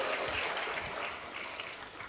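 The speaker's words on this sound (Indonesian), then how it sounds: "Berikan tepuk tangan bagi Tuhan, haleluya." A church congregation applauding during a worship service, a dense steady wash of clapping from many hands that holds throughout and fades slightly at the end.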